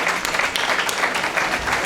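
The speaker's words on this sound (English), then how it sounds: "I think you folks need a round of applause for this wonderful event" A crowd claps steadily to honour a college department's annual event, with broad, continuous applause holding at an even level and a few sharper individual claps poking through.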